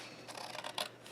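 Scissors snipping through card paper while trimming a handmade greeting card, a few soft crisp cuts in quick succession, close and quiet with no talk.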